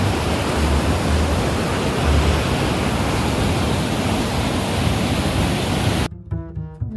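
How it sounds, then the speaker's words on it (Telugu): Jogini waterfall near Manali roars as a loud, dense, continuous rush of falling water, filling the scene evenly before cutting off abruptly near the end to a much quieter tail. "ఖచ్చితంగా విజిట్ చేసే ప్లేస్ ఈ జోగ్ని వాటర్ ఫాల్స్"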